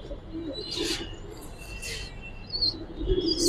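A large male pigeon in a loft gives a few soft, low coos amid faint chirps and background rustle, fairly close and quiet.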